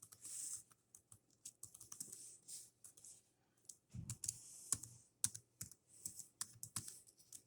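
Fingers type a login ID on a computer keyboard, light irregular key clicks coming in quick bursts with short pauses, quiet and close.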